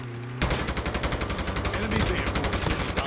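Rapid automatic gunfire in a shooter video game, aimed at a car, bursts in abruptly after a short quiet moment and keeps up a steady, loud, close stream of shots through the rest.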